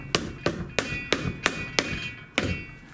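Seven sharp, evenly spaced metallic taps from a hammer during ignition reassembly of a 1937 Briggs and Stratton Model A engine, close and moderately loud, with a short pause before the last strike.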